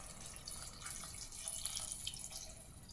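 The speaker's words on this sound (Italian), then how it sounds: "È il momento di coprire le fave con dell'acqua." Water runs and splashes steadily into a pot of fava beans, a soft, continuous trickling pour at close range with no voices.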